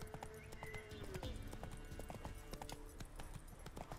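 A horse in The Witcher 3 video game clops along in steady hoofbeats under a busy game soundscape, with a short whinny partway through, all fairly quiet.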